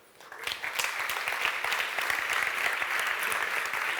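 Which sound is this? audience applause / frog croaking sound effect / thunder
audience applause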